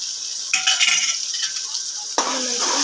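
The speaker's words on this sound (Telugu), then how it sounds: "ఫ్రై చేసుకోవాలి. ఫ్రై చేసుకుంటున్నాము." Ginger garlic paste and tomatoes being stirred and fried in a pan for ganji, with a spoon scraping and clinking against the metal over a steady sizzle, close up, two sharper scrapes standing out.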